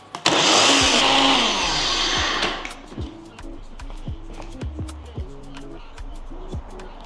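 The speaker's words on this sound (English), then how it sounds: "So we're just going to blend this now" A kitchen blender purees ingredients for Nigerian efo riro with a loud, close whirring roar for about two seconds, then winds down and stops, followed by scattered clicks and knocks.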